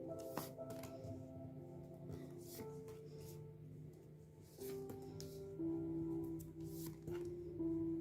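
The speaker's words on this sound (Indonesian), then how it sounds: "Saya akan ambil kartunya dulu." Tarot cards are drawn from a deck and shuffled, making soft papery flicks and rustles in short bursts over steady background music.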